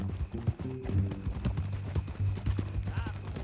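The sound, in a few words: horse hooves in video game Red Dead Redemption 2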